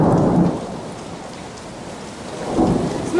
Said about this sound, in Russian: Вот такой у нас сегодня ливень, 22 июня.